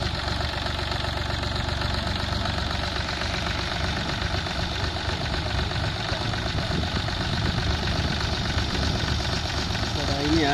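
A Force Abhiman 4x4 27 HP tractor's engine labors up a climb with a dense, constant rumbling roar that stays loud and close throughout, and voices are partly buried beneath it.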